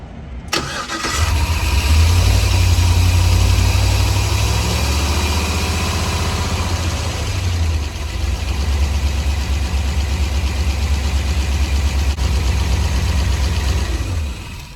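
An LS-swapped van engine restarts with a sharp crank and catch, then settles into a loud, steady, close idle with a faint fluctuating rumble that holds to the end.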